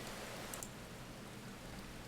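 Soft, steady rain falls in a video game, a quiet, even hiss that holds through the whole moment with no voices.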